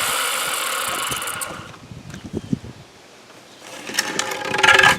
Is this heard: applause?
no